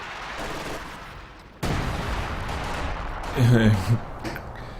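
Gunfire in Company of Heroes 2, a WWII real-time strategy game, with a sudden burst of battle noise followed by a louder cluster of rapid machine gun shots near the end, under ongoing game ambience.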